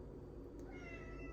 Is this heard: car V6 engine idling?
no